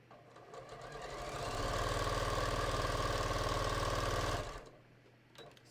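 A sewing machine stitching binding onto a raglan sleeve top, starting up, running in a loud steady rapid whir for a few seconds, then stopping with a brief click afterward.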